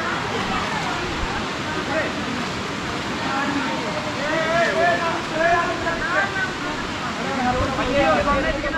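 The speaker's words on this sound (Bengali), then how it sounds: "এখানে কিন্তু ঝর্ণার ব্যাপক শব্দ শোনা যাচ্ছে" Khoiyachora waterfall in Sitakund keeps up a constant broad rushing roar nearby, with people talking over it the whole time.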